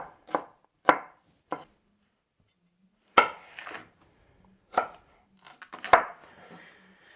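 Red and green peppers chopped with a knife on a board, sharp isolated thuds in an irregular rhythm, about seven strikes with quiet gaps between them, close and clear.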